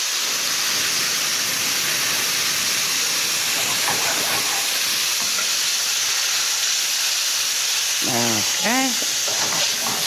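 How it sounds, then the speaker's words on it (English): White wine poured into a hot pan of toasted paprika hisses and sizzles loudly and steadily, a broad continuous steam hiss, with a brief spoken word near the end. "We'll add some white wine."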